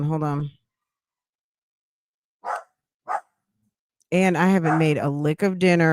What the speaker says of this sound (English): you can hear my dogs are going crazy in the background